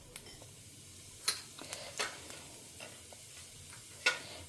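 Cumin seeds dropped into lightly heated cooking oil give faint, scattered pops and crackles over a soft sizzle, with a few sharper clicks spaced irregularly.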